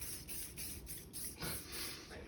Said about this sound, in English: Okay, so spray here.